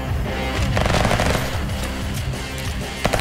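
Gunfire in the virtual reality game Hard Bullet, a loud, dense burst of rapid automatic shots that runs almost continuously, then a few sharper single cracks at the end.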